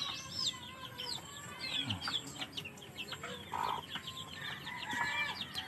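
Chickens cluck and chirp steadily with a hen's softer calls among them in a small backyard poultry farm, close by, with a few brief squawks over a busy farmyard background.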